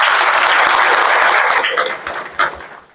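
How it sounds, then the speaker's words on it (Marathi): Audience at a Maharashtra Agriculture Day farmers' gathering bursts into loud, steady applause that thins into a few scattered claps and dies away by the end. "एकदा स्वतःसाठी जोरदार टाळ्या द्या।"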